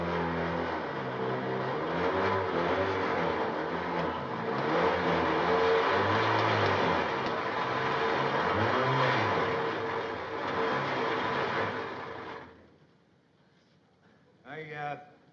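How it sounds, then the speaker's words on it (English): A small electric motor on a kitchen gadget runs as it takes up oatmeal during an old television comedy sketch, a loud whirring drone that wavers in pitch for about twelve seconds and then cuts off before someone speaks. "I think that motor needs a drop of oil."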